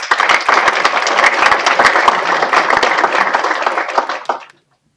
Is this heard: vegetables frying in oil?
no